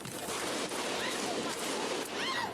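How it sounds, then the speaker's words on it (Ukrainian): Dense, crackling bursts of gunfire fill the clip, loud and continuous with a chaotic, noisy texture and no clear pauses. "аж доки спокій не перериває стрілянина"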